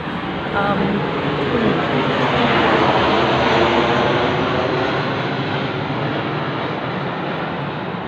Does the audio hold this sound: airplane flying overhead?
yes